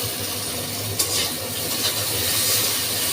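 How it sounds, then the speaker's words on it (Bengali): Onion and tomato sizzle steadily in a hot pan while cooking down for a hilsa fish head and cabbage curry, with a soft utensil scrape or clink about a third of the way in. "এখানে আমার পেঁয়াজ আর এটা ভালোভাবে ভাজা হয়ে গেছে।"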